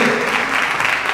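A church congregation applauds in praise, a dense and steady wash of many hands clapping together at fairly close range, sustained evenly throughout with no break.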